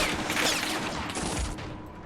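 Gunfire in Men of War: Assault Squad crackles as a dense, steady volley of shots during an assault on a presidential palace, fairly loud and continuous with no talk.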